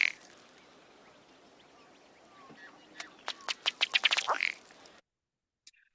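A male Ruddy Duck gives its bubbling display call in a prairie pothole marsh, a quickening run of sharp ticking pulses building to a short burst, recorded close against faint background, then silence.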